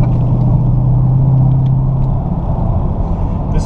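A 2016 Dodge Charger R/T Scat Pack with the 392 engine at Texas Motor Speedway: a loud, steady low engine rumble with a droning hum that fades partway through, close and continuous, with no talk.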